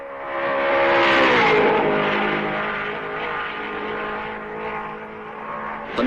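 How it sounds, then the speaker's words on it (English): A 1955 Ferrari Grand Prix racing car on the last lap of the Belgian Grand Prix, its engine revving hard and rising in pitch, then holding a steady high drone as it passes, fairly faint with no talk. "Trintignant guns his Ferrari"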